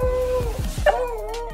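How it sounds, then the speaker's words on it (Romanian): A dog whimpers and whines with excitement on meeting its owner after a long separation, a few short yips followed by a rising high-pitched whine, close and loud with nobody speaking. "A început să scâncească de fericire, că se auzea în tot cartierul."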